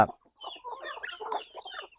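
Free-range village chickens foraging on grass cluck softly and repeatedly at close range in a short, busy burst of fowl calls with no talk.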